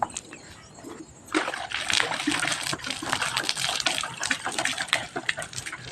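Water is sprinkled by hand onto the ground in a village before a kolam is drawn. Sparse spatters give way to a dense, continuous splashing and patter close by, with no talk.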